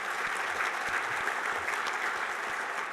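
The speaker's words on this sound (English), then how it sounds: "let's give them a round of applause as well" Steady, dense audience applause at a 2018 Missouri Western State University Hall of Fame induction ceremony, a sustained even roar of many hands clapping throughout, with no talk.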